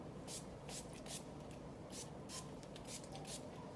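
NYX Dewy Finish makeup setting spray mists out in a series of short, close hissing bursts, about ten quick pumps in irregular rhythm over a faint background hum.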